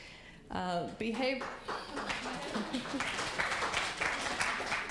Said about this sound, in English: Y'all just keep clapping.